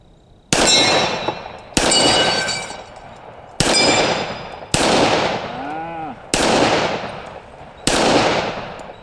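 Six loud, well-spaced shots from a Springfield Armory Garrison 1911 pistol, each followed by a ringing clang of steel target plates, one with a wavering metallic ring, outdoors at a range.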